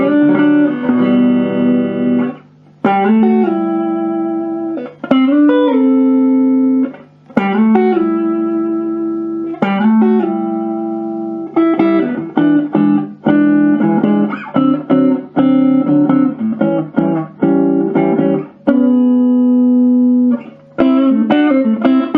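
A SubZero five-valve tube guitar combo amp on its clean channel, volume around 2, plays a guitar in ringing chords and single notes, grouped in phrases with short pauses between them, fairly quiet and clean with no talking.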